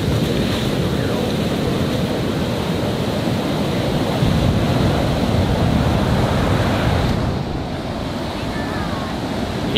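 Ocean surf and backwash at Pipeline make a loud, continuous roar of churning water close by, with wind buffeting the microphone throughout.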